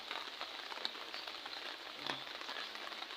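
Steady rain falls on surfaces outdoors in a forested mountain setting, a soft, even hiss with scattered faint drips, fairly quiet and continuous without voices.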